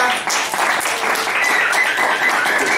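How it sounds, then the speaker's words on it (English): Loud, warm applause from a conference audience welcoming a speaker to the stage, continuous dense clapping with a faint whistle or cheer riding on top. "let's give a warm round of applause to Mr."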